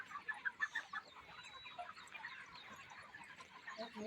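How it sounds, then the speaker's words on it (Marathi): Chickens at a poultry farm cluck and chatter in a busy flock, with a cluster of louder clucks at the start and then softer, continuous bird calls at a moderate distance. "ही आहे पोल्ट्री कोंबड्यांची."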